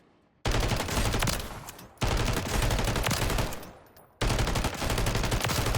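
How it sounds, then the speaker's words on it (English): Holger 26 light machine gun firing in Call of Duty on Rebirth Island, in three long, loud sustained bursts of dense automatic fire with brief pauses between them. "I'm shooting, I'm going to be moving left and right to help my aim stay on target, even though this gun is a laser beam."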